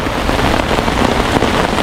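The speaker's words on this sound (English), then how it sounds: "it's raining like a bastard, but it's not windy now" Heavy rain pours down in a dense, continuous roar, loud and close, with no voices, no wind, during a thunderstorm in Temagami.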